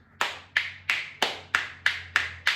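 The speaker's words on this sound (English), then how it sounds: "And if we put it together, it sounds like this." Musical spoons tapped in a steady beat, struck first against the leg and then against the hand, giving eight crisp, evenly spaced clacks close by with no talking.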